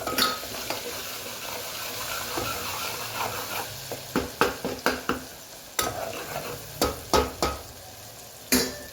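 Spices being stirred and mixed in a hot cooking pan: a low sizzle under a run of sharp spoon scrapes and clinks against the metal, close and clear, with no voices.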